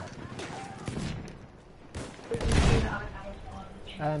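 Battlefield 1 video game gunfire: bursts of shots with a heavier volley building near the middle, mixed with game sounds and a voice talking over parts of it.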